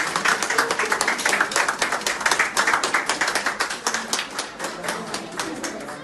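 Medical staff applaud a Covid-19 patient as she leaves the hospital after eight days in intensive care, steady clapping from a small group filling the room with rapid, dense hand claps that ease slightly toward the end.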